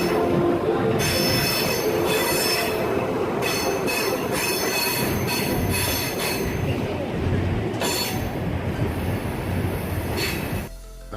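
Wheels squeal loudly and steadily from inside a moving train on a Colorado scenic ride, a continuous metallic screech over rumbling rail noise that runs alone for about ten seconds before dropping away at the end.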